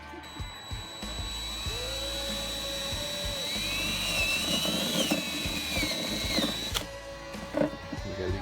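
A step drill bit whines steadily as it bores through plastic for an air valve fitting, a close, continuous tool sound that rises slightly in pitch midway, with small clicks and knocks around it.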